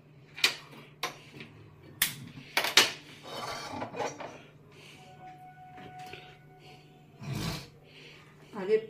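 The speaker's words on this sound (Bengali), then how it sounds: "তো আমি কড়া বসাই।" A wok is set on a stove with a few sharp metallic clanks and knocks of pots and utensils, close and scattered, while people talk.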